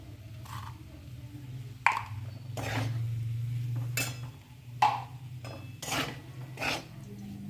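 Spoon scraping and stirring sabudana khichdi in a pan, several distinct scrapes and clinks at irregular intervals over a low steady hum, close and moderately quiet.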